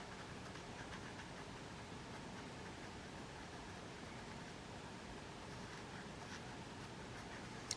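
A marker, likely water-based, colours a flame-red outer band on a paper mandala, giving a soft, steady, continuous scratching hiss that is close and faint, with no talking.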